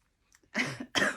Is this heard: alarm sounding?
no